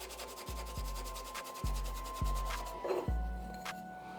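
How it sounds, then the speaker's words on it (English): Sandpaper rubs rhythmically against a cue tip and ferrule to remove leftover old tip material, producing repeated close, fairly loud back-and-forth strokes with no speech. "I'm gonna sand the rest off so I don't cut into the ferrule"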